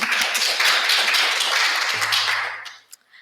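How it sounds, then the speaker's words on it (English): An audience at a side event on sustainable agrifood practices claps for the event partners, a short burst of lively applause from a modest crowd that thins out and stops near the end. "Please give them a round of applause."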